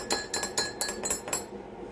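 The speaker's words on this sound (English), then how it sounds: "Stir that up." A spoon stirs coffee with creamer in a glass, giving about six quick bright clinks in a steady rhythm, close and clear, with no talk.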